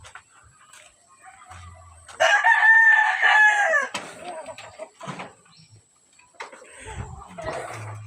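A rooster crows loudly nearby in one long, strained call, followed by soft clucks and brief murmured voices.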